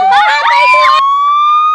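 An ambulance siren wails loud and close, with a steady rising tone that carries on alone after a burst of overlapping speech-like sounds over it in the first second.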